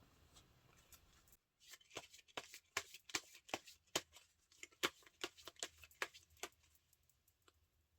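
Tarot cards are shuffled close up before a draw, a quiet run of crisp slaps and riffling taps in an uneven rhythm with no talking.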